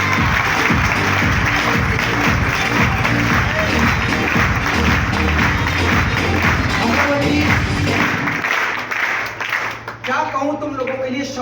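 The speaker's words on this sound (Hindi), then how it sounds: "एक बार अपने अपने माँ बाप के लिए जोरदार ताली बजाएं।" Loud, dense clapping from a large audience applauding their parents, steady for about eight seconds before thinning out and fading near the end.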